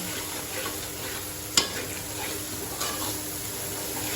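Cumin and spices stir-frying in a pan for a bhindi gosht curry give off a steady close sizzle. A spoon scrapes the pan once, sharply, near the middle and again more faintly toward the end.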